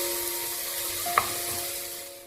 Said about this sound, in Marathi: हे भाज्या अशा छान मसाल्यामध्ये परतून घ्यायचा